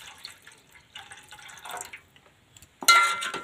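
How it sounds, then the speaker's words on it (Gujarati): Water poured from a small glass into a pan while making masala Maggi noodles, a sudden close splashing rush near the end after quieter kitchen clatter. "તો આમાં પાણી નાખી દઈ."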